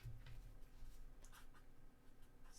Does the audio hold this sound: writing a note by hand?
yes